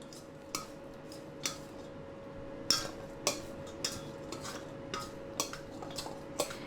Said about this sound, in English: and then just mix this up